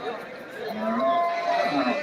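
Large dairy cows low at a busy cattle market, their drawn-out moos rising over a constant murmur of crowd chatter nearby.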